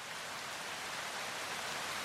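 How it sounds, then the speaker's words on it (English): Steady, dense rain hisses evenly across the whole stretch, a soft and continuous wash of drops with no voices or other sounds. "We have noise from rain,"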